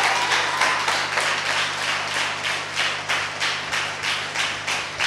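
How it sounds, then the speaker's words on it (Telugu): Church congregation at a fasting prayer service clapping hands loudly in a steady, rhythmic beat, many hands together, continuous and close over a low hum. "గట్టిగా చప్పట్లు"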